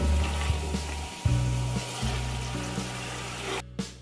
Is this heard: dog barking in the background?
no